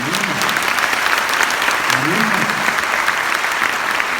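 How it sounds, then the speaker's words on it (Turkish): A large audience claps steadily at a poet's talk, with dense, loud applause lasting throughout and a few voices faintly heard under the clapping. "Onlara alkışlamak lazım."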